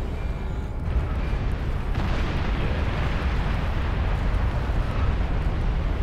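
Nuclear missile launch in the strategy game Beyond All Reason, a loud sustained roaring rumble with blast-like bursts that fills the whole stretch without letup.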